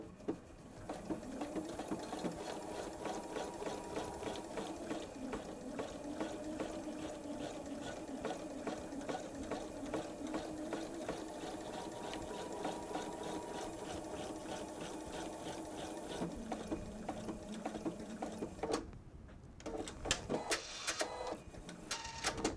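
Sewing machine stitching a seam on a bag, running in a fast, even, continuous chatter for most of the time, then stopping with a few short bursts and clicks at the end; quiet and close.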